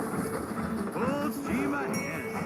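A short electronic slot machine train effect in a casino, with a rumbling clatter and rising whistle-like tones, busy and continuous.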